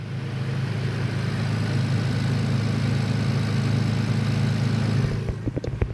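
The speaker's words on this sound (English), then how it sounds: "And now it went down to idle." A Toyota Tacoma fitted with a Carven exhaust idles in a garage with a steady, even low rumble. A few sharp clicks and knocks come at the end.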